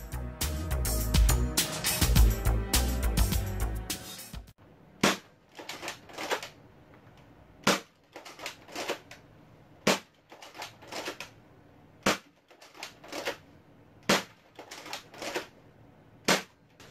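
A modified Sentinel toy blaster firing foam darts, a dense clatter of mechanical rattling at first, then a series of sharp, evenly spaced snapping shots about every second, close by with no talking.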